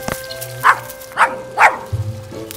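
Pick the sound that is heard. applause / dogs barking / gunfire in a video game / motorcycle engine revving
dogs barking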